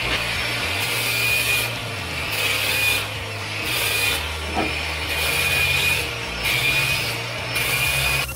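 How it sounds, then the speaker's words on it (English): Speed-adjustable angle grinder with a 120 grit disc at slow RPM, a steady grinding drone with periodic rising passes as the disc sweeps back and forth across the surface, close and continuous. "I got a 120 grit and a speed adjustable angle grinder. So I just give it a slow RPM."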